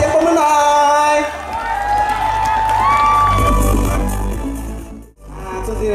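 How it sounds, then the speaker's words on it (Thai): A festival crowd at the Hmong Bangkok Festival 2019 cheers and whoops loudly for several seconds, with a voice carrying above the crowd, before the noise briefly dips and rises again. "ขอเสียงปรบมือหน่อย"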